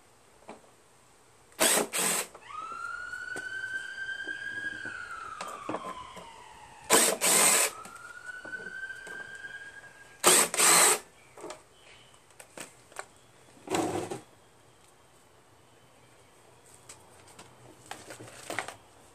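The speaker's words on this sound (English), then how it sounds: "I'm going to take off these four bolts, or screws." Bolts are backed out of a cracked Honda Harmony HRM215 SX self-propelled lawn mower deck with a power drill, several short loud whirring bursts with rising and falling pitch separated by quiet pauses, close up.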